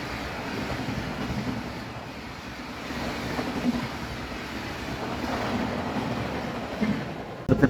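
A high-speed train rumbles steadily past at Faridabad New Town railway station, a continuous loud roar with faint wheel clatter and no voices.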